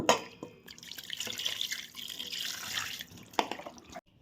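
Water splashes and drips in a sink, with sloshing and wet handling sounds as goat meat is rinsed, ending with a short splash.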